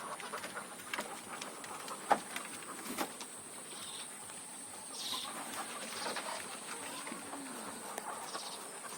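White layer hens in a large poultry farm shed of about 2000 birds make scattered clucks and soft calls over a steady background hum, with faint distant chatter from the flock.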